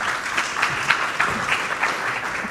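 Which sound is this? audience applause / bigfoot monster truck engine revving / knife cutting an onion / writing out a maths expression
audience applause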